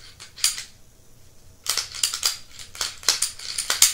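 The slide of a Glock pistol being cycled, sharp metallic clacks and rattles close up, one early burst, then a quick series of snaps after a short pause.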